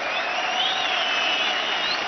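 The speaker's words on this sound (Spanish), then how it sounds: "Un aplauso para todas ellas" Steady applause from a concert audience, a dense continuous wash of clapping with some whistling on top, loud and sustained throughout.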